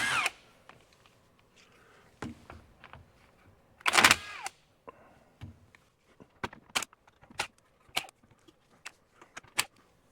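A power tool removes nuts on a car, heard as short separate bursts spread over the clip, some louder and some faint, with quiet gaps between them.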